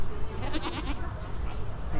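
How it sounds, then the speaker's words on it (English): Goats bleat in livestock pens at the Devon County Show, a busy agricultural fair, their wavering calls rising over dense crowd noise and nearby chatter. "We'll just have a look at some more of the goats here."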